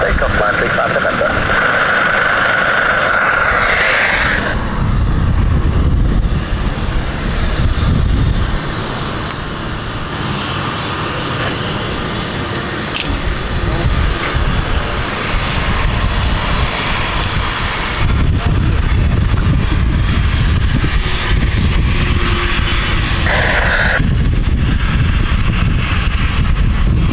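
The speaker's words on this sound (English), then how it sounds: "Runway 27, clear to take off, line 35 November." A jet aircraft takes off from runway 27 at London City Airport, a loud, sustained engine roar with wind buffeting, overlaid by air traffic radio chatter and a presenter talking.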